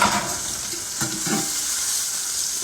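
Ribeye steak frying in butter in a pan, a steady loud sizzle with brief bursts of spitting as the meat is turned.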